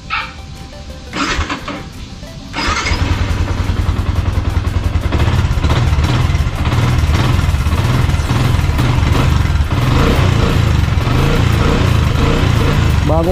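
A new Yamaha engine, still under warranty, fires up on its electric starter after a couple of short bursts, then settles into a loud, steady running drone that continues to the end.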